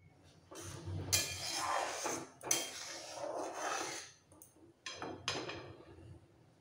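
Soaked raisins go into a pan of oil-free pineapple chutney, several clear metallic clinks and scrapes of a spoon against the pan in uneven bursts.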